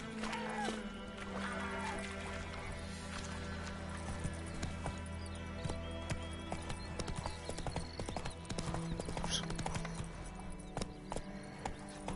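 Horse hooves clip-clopping steadily in The Witcher III: Wild Hunt, a rapid rhythmic trot of sharp hoof strikes with a brief voice and faint game ambience beneath.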